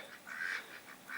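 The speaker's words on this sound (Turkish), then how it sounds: "Yeşilbaş ördek var." Several soft, nasal mallard duck quacks come in quick succession, faint and somewhat distant, with no voices, in an orchard area near Antalya.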